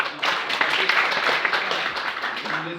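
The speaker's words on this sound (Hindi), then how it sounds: "एक बार सर के लिए जोरदार ताली बजाएं" An audience in a Hindi class claps loudly for their teacher, a dense burst of applause with voices mixed in underneath.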